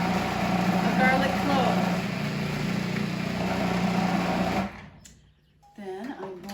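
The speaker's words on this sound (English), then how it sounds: "with the processor going, I drop in" A food processor whirs with a steady close motor drone while vinaigrette is made for a winter salad, then cuts off abruptly after a few seconds, leaving quiet room sound and a brief voice.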